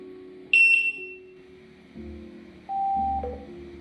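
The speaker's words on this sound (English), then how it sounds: "Sorry for the loud beep." Gotway electric unicycle control board emitting a sharp high-pitched electronic beep, followed by quieter steady tones and a short second beep, close and alone with faint background hum.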